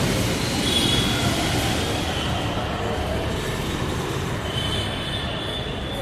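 A metro train rumbles steadily at Secunderabad metro station on a rainy day. The broad, continuous roar of wheels and motors stays loud the whole time, with a faint high whine drifting over it.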